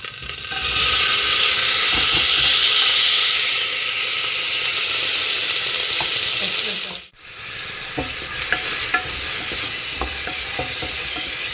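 Tomatoes and chillies sauté in a pan with a loud, steady sizzle and hiss, which dips briefly midway as they are stirred and then carries on with small scrapes and crackles.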